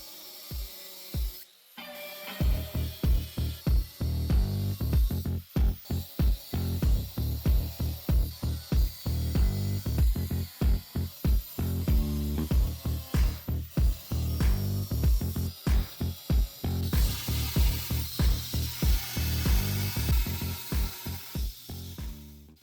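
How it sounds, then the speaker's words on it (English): An angle grinder cuts a sword shape from steel in rapid bursts, loud rhythmic pulses of whining, hissing abrasion that repeat closely for the whole stretch. "I'm going to use this angle grinder to cut out the shape"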